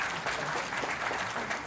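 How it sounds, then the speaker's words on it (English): An audience applauds a guest at the 2025 Pharma Pro Pack Expo in Visakhapatnam, a brief, even wash of many hands clapping together indoors, fairly loud and steady. "So 1 second clap for him."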